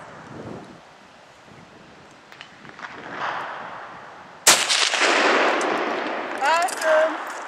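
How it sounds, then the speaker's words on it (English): A handgun fires outdoors at a glass pane: one sharp, loud shot comes after several seconds of wind and quiet rustling, then a long ringing tail with faint whistling tones. "I'm just gonna shoot it into the distance."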